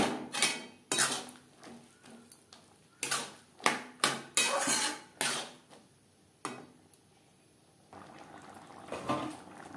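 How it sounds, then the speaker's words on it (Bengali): A spoon stirs ground spices, tomato, ginger and green chilli paste into flat bean seeds in a pan, making a series of close, sharp clattering strokes against the metal before settling into a softer, quieter stir. "বেশ ভালো করে মশলা শিমের দানার সাথে মিক্স করে দেবো।"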